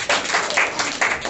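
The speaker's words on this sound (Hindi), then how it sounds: "एक जोरदार ताली बजाइए" Brief bursts of clapping from a congregation at a Sunday morning church service in Lucknow come in short uneven pulses, fairly close and moderately loud, without speech.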